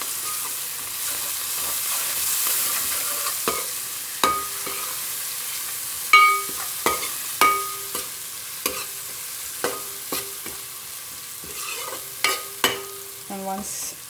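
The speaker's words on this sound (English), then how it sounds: "I've added turmeric powder and ginger garlic paste here, and I'm stirring it once again." A spoon stirs a beans curry with turmeric and ginger garlic paste in a hot pan, making a soft steady sizzle under a series of sharp scraping clinks at irregular intervals, close up.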